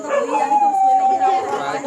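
Dog at a house in India, howling in one long drawn-out wavering cry close by, with people talking over it.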